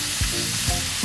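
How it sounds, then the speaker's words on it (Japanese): Chicken drumsticks searing in a pan for a tomato and mushroom stew, a loud steady sizzle broken by a few soft knocks as the pieces are pressed in. "手羽元を焼いていきます。"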